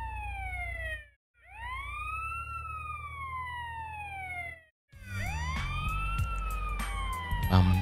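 An ambulance siren in GTA San Andreas wails in long rising-and-falling sweeps, briefly cutting out twice, then joined by engine rumble and clatter as the vehicle drives.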